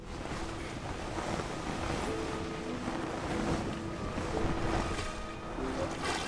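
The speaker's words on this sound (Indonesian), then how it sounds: "Pada malam harinya, Om Burhan kembali menghadapi badai besar" A storm rages at sea around a rubber boat in a film scene. Dense wind and crashing waves roar continuously and loudly, with creaks and flapping mixed into the turbulent wash.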